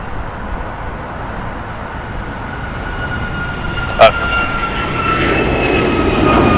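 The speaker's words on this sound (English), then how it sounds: "Departing here is United Airlines Flight 1278 going to Cancun. It's a Boeing 737 MAX 9." A United Airlines Boeing 737 MAX 9, four years old, departing Los Angeles International Airport, its engines a steady broad roar that holds loud throughout, with a short sharp knock partway through.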